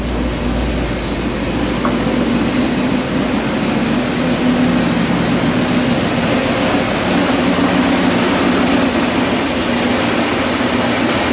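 A car engine sits idling after several minutes of running, a loud steady low rumble and hum with no change in pace, close by and without talking.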